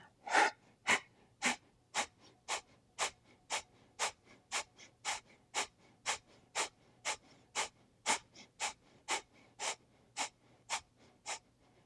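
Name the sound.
rhythmic breathing during a yoga breathing exercise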